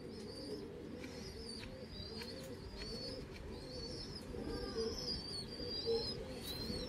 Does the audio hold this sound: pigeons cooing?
yes